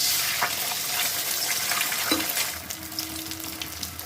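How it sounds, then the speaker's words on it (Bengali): Steady sizzling of eggs being scrambled in a hot wok, with occasional scraping stirs and a faint tonal hum in the background; no voices. "আমি এখানে দুটো ডিম ফাটিয়ে রেখেছি ডিম দুটো ভুজি বানিয়ে নেব"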